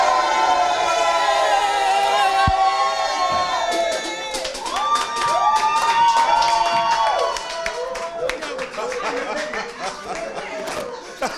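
A lively crowd cheers, shouts and claps in a loud, sustained wash, with whistles and raised voices rising through it and a speaking voice cutting in at moments.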